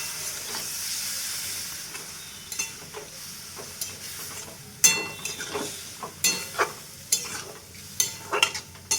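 Water poured into a spiced banana-flower (mocha) and potato curry in a hot pan sets off a steady steamy hiss and sizzle, punctuated by sharp clicks and scrapes of stirring.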